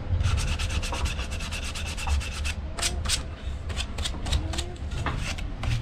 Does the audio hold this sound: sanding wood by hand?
yes